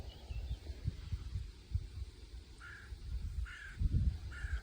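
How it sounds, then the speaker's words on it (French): Carrion crows caw a few times in the distance, faint harsh calls over a low rumbling outdoor background. "On entend les corneilles qui crient au loin."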